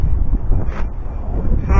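Wind gusts buffet an outdoor microphone in a loud, low, blustery rumble that rises and falls through the short stretch.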